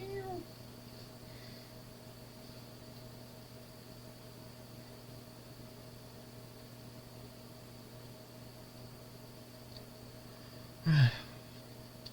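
A domestic cat gives a short meow at the start and another brief, louder call near the end, set against a steady low household hum.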